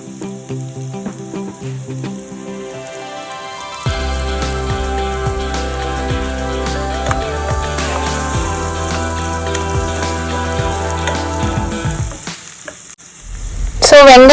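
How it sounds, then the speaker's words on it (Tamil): Chopped onion fries in a pan, a continuous sizzle heard beneath prominent background music, growing louder and busier toward the end. "அதுக்கு அடுத்தது இது கொஞ்ச நேரம் ஃப்ரை ஆகட்டும்."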